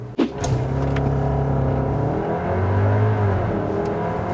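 A Skoda Kodiaq engine hums steadily from inside the cabin in an alternate drive mode, a continuous low drone that rises slightly in pitch midway, loud and alone after a brief thump at the start.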